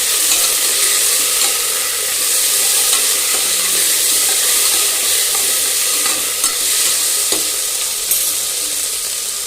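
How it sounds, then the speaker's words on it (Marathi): Carrots sautéing in a hot pan for a horse gram rice dish give a loud, continuous hiss with an occasional soft stir, and no one speaks. "गाजर, छान असे परतून घ्यावे"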